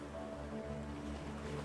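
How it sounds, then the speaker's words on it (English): Ocean waves washing steadily onto a sandy beach, a constant soft surging roar with a faint low hum beneath, no distinct breaks between swells. "facing the ebb and flow of the ocean waves"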